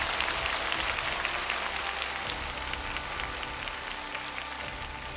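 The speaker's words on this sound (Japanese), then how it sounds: "キャストの皆様に改めて大きな拍手をお送りください" Audience applause for the cast after a reading drama at a Haikyuu!! stage event, a broad steady wash of many hands clapping that holds for the whole stretch, fading slightly toward the end.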